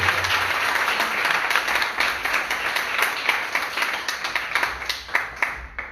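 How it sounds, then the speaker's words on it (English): An audience at a startup pitch networking event gives a round of applause, dense at first and then thinning into scattered individual claps toward the end. "I think it's time for a big applause"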